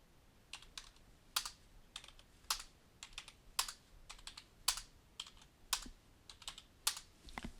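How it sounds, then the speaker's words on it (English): Irregular clicking of keys on a computer keyboard, close by and crisp, with short pauses between bursts of typing. "every time I hit enter on my keyboard"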